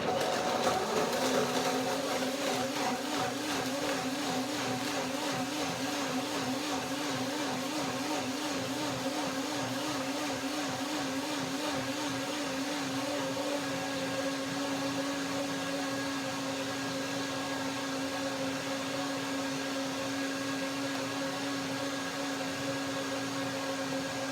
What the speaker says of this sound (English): Blending dates with almonds